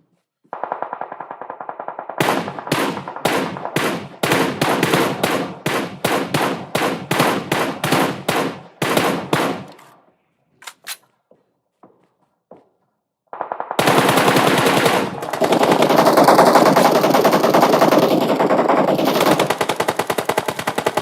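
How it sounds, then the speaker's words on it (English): Machine gun fire in a Clatter of Clans grand final video game match: a long string of loud, rapid bursts, then a lull with a few scattered shots, then a sustained, dense roar of continuous fire. "Shots being let loose onto this particular position."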